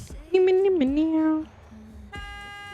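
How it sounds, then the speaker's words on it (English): A truck horn honks in American Truck Simulator, a steady flat blare near the end, after a bending, tone-like vocal sound and someone speaking. "It wouldn't be me if there wasn't honking"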